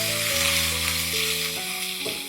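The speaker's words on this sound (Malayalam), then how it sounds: "ഇഞ്ചി വെളുത്തുള്ളി ചെറുതായിട്ടൊന്ന് മൂത്ത് വരണം" Ginger and sliced garlic frying in a pan for a beef dish, a steady close sizzle running alone throughout with a faint stir near the end.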